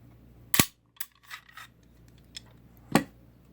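Metallic clicks and clacks as a Walther P38 pistol with a .22 conversion slide is field stripped, a sharp snap, a few lighter rattling handling sounds, then another sharp click, close and otherwise quiet.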